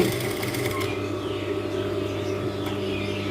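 A sewing machine stitches an elasticated trouser seam, running close and steady with a continuous whirring hum and rapid needle chatter from start to finish, with no talking.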